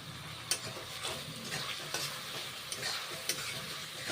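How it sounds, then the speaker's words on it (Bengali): Spices with turmeric and salt are stir-fried in a pan for an okra dish. A continuous sizzle runs under repeated scraping stirs and sharp clinks of a spatula against the pan. "মশলা কষে নিচ্ছি। হলুদ দিচ্ছি, নুন দিচ্ছি"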